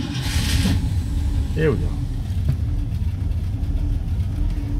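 A 1969 Ford Mustang Grande engine rumbles at a low, steady idle, close and loud throughout, with someone speaking briefly over it.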